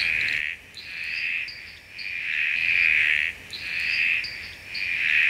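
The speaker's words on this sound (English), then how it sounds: "You can actually hear behind me now the red-groined froglet." Red-groined froglets and a newly discovered frog species call at night near Newcastle, a dense, high trilling chorus that runs continuously with a few short dips between bursts.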